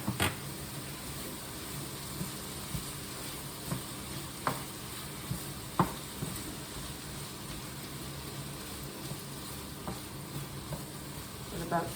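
Pancetta sizzling in a frying pan, a steady hiss of frying with occasional soft clicks and stirring knocks, alone without talk.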